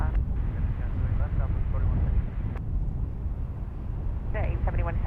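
An SAS airliner taking off from runway 28 left at San Francisco International Airport, a heavy, steady low jet roar with wind noise, heard from a distance while a voice talks over it.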